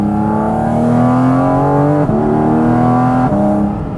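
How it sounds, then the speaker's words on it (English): Naturally aspirated Porsche 718 Cayman GT4 RS engine droning loud and close in a steady, slowly climbing tone, broken twice by brief dips as the gearbox shifts, without talk. "The gearbox is also very precise, blips the throttle on the downshifts"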